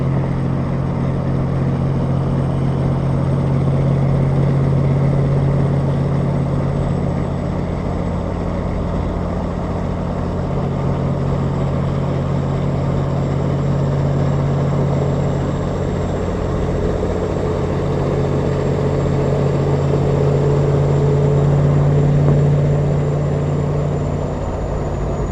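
A 1989 Kenworth truck with a Caterpillar engine running, a steady loud diesel drone with deep humming harmonics that swells slightly now and then over a long stretch, with no talking.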